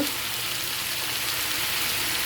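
Chicken frying in a pan gives a steady, dense sizzle that stays even and close throughout, with no clear individual stirring strokes.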